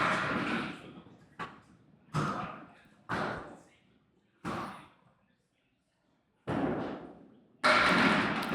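Candlepin bowling balls rolling and knocking pins at a lanes alley, a series of sharp thumping clatters spaced a second or so apart, with a commentator's voice between them.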